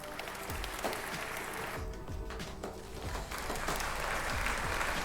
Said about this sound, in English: Give him the golf clap.